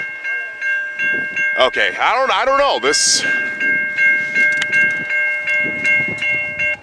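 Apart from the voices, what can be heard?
train passing a railroad crossing, snowplow pulled by locomotive 2303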